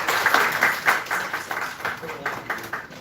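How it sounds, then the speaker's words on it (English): An audience at a youth ideathon launch event gives a short burst of applause, many hands clapping in a fairly even patter that holds steady for a few seconds. "So a round of applause for that."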